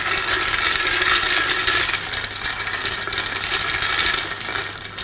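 A non-alcoholic New Year mocktail is shaken hard in a closed container, giving a loud, steady rattling wash of ingredients that runs continuously for several seconds without voices.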